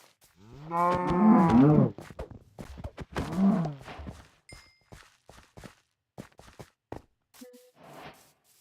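Minecraft cows lowing in a survival game, two long, loud moos in a row followed by soft blocky footsteps and small game sounds, no talk over them.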